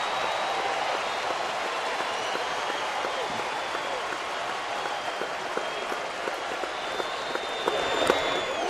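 A big crowd of over 39,000 on its feet at a Major League Baseball game between Arizona and Atlanta, a dense, steady roar of cheering and applause heard from a distance, fairly faint, with a broadcaster's voice faintly over it.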